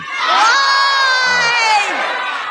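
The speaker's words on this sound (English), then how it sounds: "And let me ask the crowd, what did Trump do?" A political rally crowd shouts back a one-word answer in unison, a loud, sustained roar of many voices lasting a couple of seconds.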